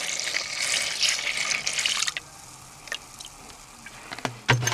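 Distilled white vinegar pours from a bottle into a container holding a rusty C-clamp, a splashing trickle that runs for about two seconds before tapering into a few faint drips and small knocks.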